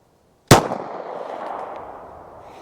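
A single sharp, loud pistol shot from a Taurus handgun with a 4 1/4 inch barrel firing Hornady 9mm Critical Duty ammunition, followed by a long reverberant decay that fades over about two seconds.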